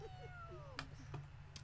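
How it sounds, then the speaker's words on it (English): A cat meows twice in The Sims 3, a short rising-then-falling cry followed by a second call, set against a steady low game hum with a few clicks. "I think someone just said meow."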